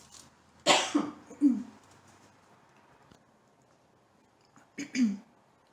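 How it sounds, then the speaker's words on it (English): A burst of harsh, close coughing, a few hacks in quick succession, then quiet before two more coughs follow. "I just started coughing"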